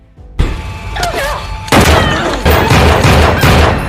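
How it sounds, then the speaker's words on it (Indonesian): Several loud, sharp pistol shots in a film burst out in close succession, each followed by a noisy crash-like decay, with no talking. "Leslie mengambil pistol yang ditinggalkan oleh Parker dan menembak Kersen."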